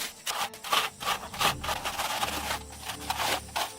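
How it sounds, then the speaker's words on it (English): A steel trowel is worked over a wet concrete floor inside a log cabin, making continuous rough rubbing and scraping strokes in an uneven rhythm, close and fairly loud, with no voices. "She uses a steel trowel to create a dense, hard, and smooth surface."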